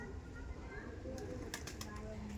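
Andhra pigeons coo softly in a low, murmuring texture beneath a person talking nearby.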